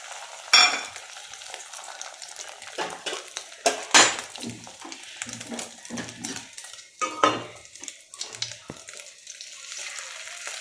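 Beaten egg goes into hot oil in a wok and sizzles, with clanking pan and utensil knocks, scraping stirs and intermittent frying crackle, close-up in a home kitchen without talk.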